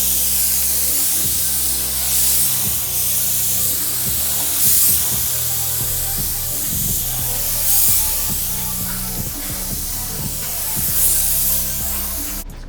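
Spray gun coating a car with paint, here a fourth coat mixed without thinner, giving a steady loud hiss that swells and fades in passes throughout, close by, with no talking.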